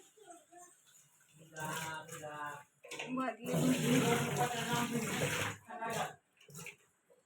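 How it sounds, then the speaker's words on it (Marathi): Water gushes and splashes as it is poured into a household air cooler in two loud bursts separated by a short pause, close up, with brief voices in the gaps. "पाणी ओतायचंय कूलर मध्ये"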